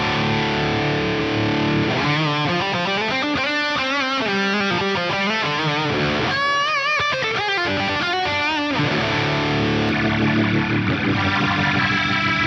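Electric guitar played through Fractal FM3 presets cycling crunch, drive, delay and rotary tones: dense distorted chords and runs with echoing repeats and a swirling modulated texture, loud and continuous with no talking.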